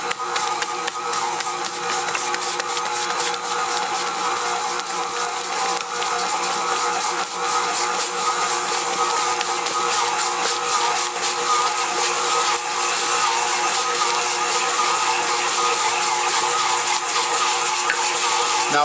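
A stand mixer with a dough hook kneads wood-fired pizza dough made with olive oil and kosher salt, giving a steady, loud mechanical whir and rumble that runs unbroken and close throughout, with no talking.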